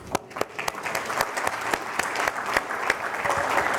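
Audience applause at a Napa vintage climate talk, a lecture-hall crowd clapping loudly with dense overlapping claps and distinct sharp hand strikes, building steadily and staying strong without any voices.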